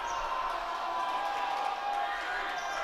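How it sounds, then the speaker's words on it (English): A crowd roars in a high school gym during a varsity boys basketball game between Anacortes and Meridian, a dense, sustained wash of voices with a commentator talking over it. "A lot of noise being made by the crowd"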